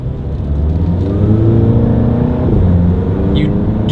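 A VW Mk7 GTI with a Powerflex dogbone engine mount insert accelerating: a loud, close engine rumble rising steadily in pitch as revs climb, heard from inside the car, with a voice briefly speaking over it.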